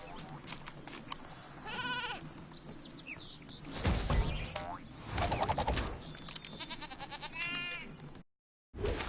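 Several wavering, nasal sheep bleats from a sheep creep enemy in a PS4 game sound one after another among bouncy game effects and chirpy tones, ending in a brief moment of silence.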